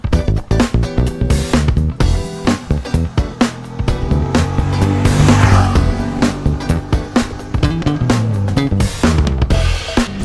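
A Honda XL750 Transalp adventure motorcycle under way, its engine droning steadily and loudly with rhythmic pulsing and wind rush, swelling slightly in the middle of the ride.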